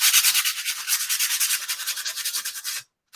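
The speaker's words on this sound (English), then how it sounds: "So I'll grab a little bit of sandpaper." Sandpaper scrubbed back and forth over a rough edge of a craft piece, a steady run of quick rasping strokes up close that stops abruptly near the end.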